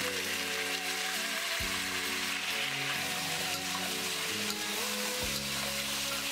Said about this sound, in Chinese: 然后把猪蹄倒入锅内，迅速的翻炒至猪蹄完全裹上糖色， 加入料酒翻炒